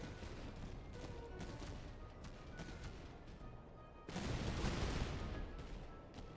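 Musket volleys crackle across a battlefield in the video game Master of Command, with dense rolling gunfire heard at a distance and a louder, thicker burst of shots near the end.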